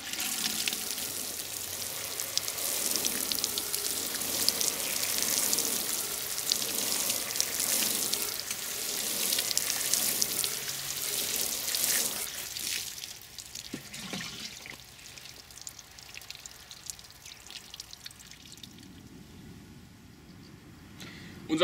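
A fine shower spray hisses steadily onto a freshly potted boxwood bonsai for about twelve seconds, then fades to quieter trickling and drips.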